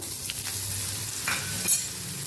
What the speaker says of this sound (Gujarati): રાઈને જીરું સરસ ફૂટી જાય પછી આપણે લીલું લસણ ઉમેરી દઈશું